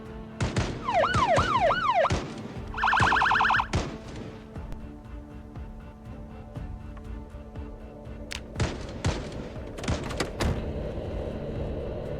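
A police car siren in Project Zomboid swoops up and down for a couple of seconds, then a pulsing electronic tone, followed by clattering thumps and bangs from game action.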